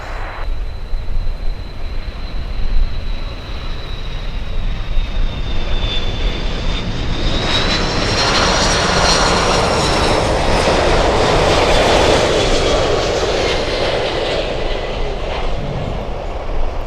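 An Aerolíneas Argentinas airliner in Argentina football livery at Miami International Airport gives off a loud, sustained jet roar with a high whine that bends and rises midway, heard alone without talk.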